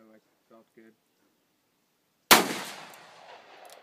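A single loud gunshot from a Smith and Wesson 386XL Hunter .357 Magnum revolver fired at an outdoor range, a sharp crack with a decaying echo, following a few faint words of speech.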